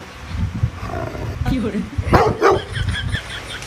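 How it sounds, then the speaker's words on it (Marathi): A dog barks loudly in a short burst of a few harsh barks, mixed with people talking nearby. "काय कोणाचं कुत्र भुकत आहे त्याच्यात एवढं मोठ्याने?"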